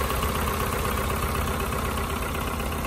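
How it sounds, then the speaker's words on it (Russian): A car engine idling roughly with a misfire on a cold winter day at minus five, a close, steady, dense engine rumble with uneven low-end pulsing throughout, no voices. "Затроил двигатель."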